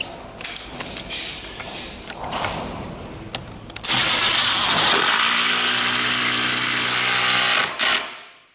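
Impact wrench with a half-inch attachment driving 9/16 bolts into a trailer tailgate, a loud continuous burst of hammering whir lasting several seconds after quieter handling noises, then cutting off abruptly.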